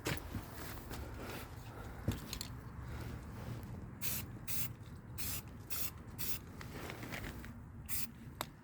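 Short hissing bursts of spray paint from an aerosol can hit the rusty body of a 1958 AMC Rambler Super, several separate sprays in close succession at close range, with no talking.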